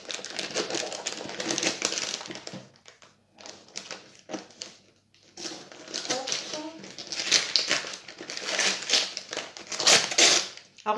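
Package being opened for a diamond painting unboxing, with close crinkling, crumpling and tearing of wrapping in bursts separated by short pauses.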